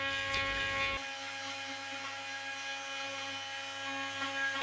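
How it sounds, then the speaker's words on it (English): A Bosch GOP 300 SCE 300 W electric multi cutter removing tile grout buzzes with a steady, even oscillating whine, held close and alone. "The AV70 RT 3 Max grout remover will remove grout and adhesive even in the most inaccessible corners."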